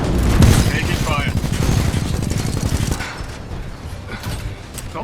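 Gunfire in Titanfall 2: rapid bursts of automatic weapon fire, loud and close, rattling for about three seconds before fading to scattered distant shots, with a voice speaking over it.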